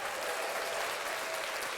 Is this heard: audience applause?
yes